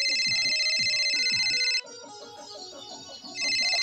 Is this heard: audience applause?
no